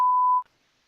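A steady pure-tone censor bleep covers a spoken word during football chat, loud and flat for under half a second before cutting off into near silence.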